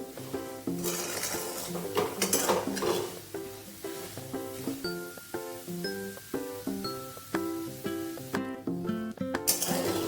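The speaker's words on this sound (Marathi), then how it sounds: "सतत आपल्याला हलवत राहायचं आहे" Peanuts roasting in salt in a pan are stirred without pause, producing a busy, rhythmic stream of close clinks and rattles with gritty scraping underneath.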